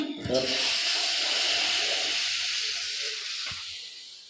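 Hot water pours into a hot pan of halwa with a loud, sizzling hiss that steams and slowly fades over a few seconds, with a clink near the end and faint voices.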